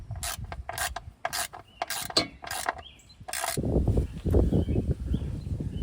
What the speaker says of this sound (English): I'm just going to snug it down for now.